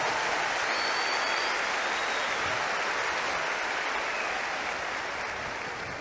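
An audience at a church talk breaks into sustained, dense applause, loud and even throughout with no talking over it.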